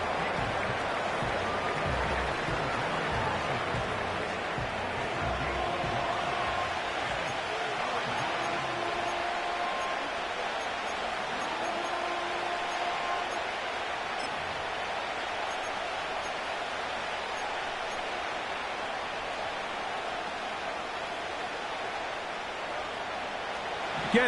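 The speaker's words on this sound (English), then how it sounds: "The noise very loud from the crowd." A large crowd at an American football game makes a loud, continuous roar that stays dense and steady from start to finish, with no single voice standing out.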